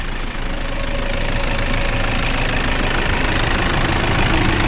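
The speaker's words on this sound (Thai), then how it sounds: "ฟังเสียงเครื่องครับผม ไม่มีควันไม่มีไอแน่นอน" A 2013 Toyota Vigo Champ four-door pickup with a 2.5 diesel engine idles nearby, giving a steady, loud, even clatter and rumble that runs unchanged throughout, with no voices.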